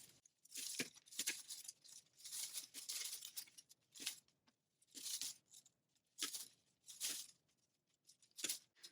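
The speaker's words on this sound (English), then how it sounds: "So I'm just going to cut a few pieces off." Wire cutters snip through olive branches for a wreath, giving sharp crisp cuts and rustling of leaves in irregular bursts, close and fairly quiet, with short pauses between clusters of snips.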